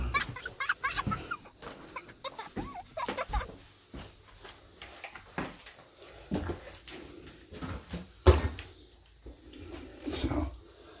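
A wild bird inside an abandoned house gives short, clucking calls scattered across the stretch, mixed with sharp knocks and rustles from someone moving through the rooms.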